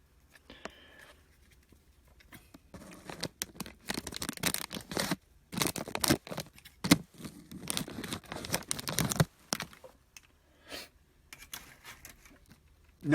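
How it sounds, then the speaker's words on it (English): Scissors cutting through the top of a plastic baggie, close and quiet, with a run of crinkling, snipping and rustling bursts and short pauses between them. "I'm going to cut the top of the baggie with a pair of scissors."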